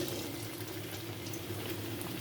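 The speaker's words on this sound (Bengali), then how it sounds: "এখন দেখেন ভাজতে চলে এসেছি, এই যে দিয়ে দিতেছি" A steady, even hiss of egg balls frying in hot oil, continuous and close, with no voices.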